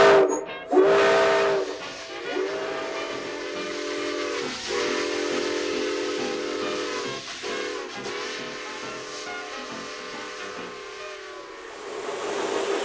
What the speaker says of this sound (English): when we installed the whistle, we had to run a compressor line